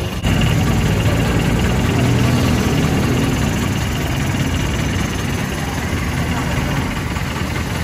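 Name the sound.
passenger jeep engine idling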